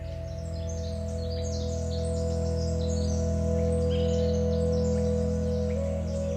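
Birds chirp and trill in short bursts high above a steady low droning hum in the Hoh Rain Forest, the calls scattered and fairly faint.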